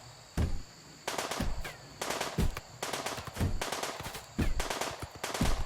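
Rapid bursts of automatic gunfire in the colony-management game RimWorld, colonists shooting down a raider defacing a monument; several loud, clustered volleys with short gaps between them, no talk.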